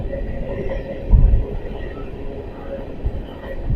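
A very long passenger train runs along the rails in a steady, close rumble, swelling briefly louder a few times as the cars roll past, with no talking.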